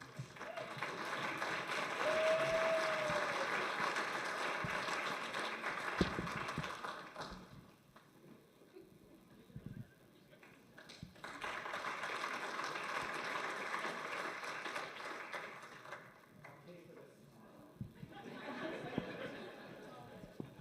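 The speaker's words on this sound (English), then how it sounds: "Ladies and gentlemen, one more big round of applause for Karen Cruz." Audience applause at a leadership celebration event comes in two broad swells separated by a quieter stretch, moderately distant, with some voices and stray knocks mixed in.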